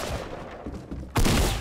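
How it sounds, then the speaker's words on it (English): Rapid gunfire in the Fortnite video game, a dense crackling volley of shots that swells suddenly louder near the end, with no talking over it. "They're all shooting him."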